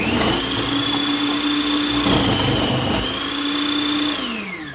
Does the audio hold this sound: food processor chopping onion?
yes